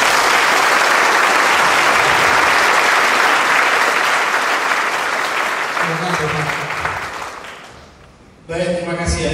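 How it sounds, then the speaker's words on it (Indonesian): Loud, dense applause from a lecture audience at an industry practitioner talk on transport human resources, sustained for several seconds, fading toward the end as a voice starts speaking over it. "Tepuk tangan."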